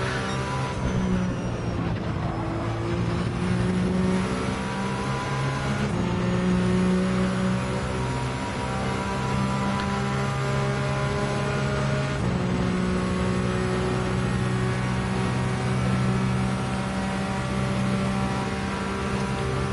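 A race car engine in Gran Turismo 7 drones steadily and loudly throughout, its pitch rising through gears with brief dips at shifts, alone without voices.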